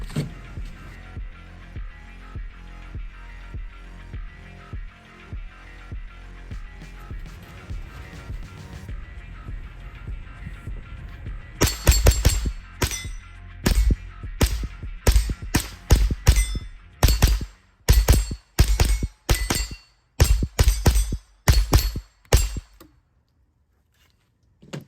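JP-15 .22 Ultralite rifle firing at an outdoor range: after a stretch of quieter ticking and handling, a long run of sharp, evenly spaced cracks rings out, loud and close, then stops.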